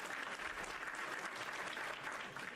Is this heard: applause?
yes